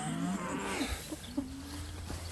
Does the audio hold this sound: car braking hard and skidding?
no